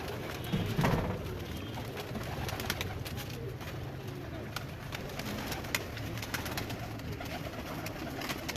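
Pigeons on a rooftop in Mirpur, Azad Kashmir, cooing and calling steadily close by over a continuous outdoor background hum, with a few sharp clicks and knocks scattered through.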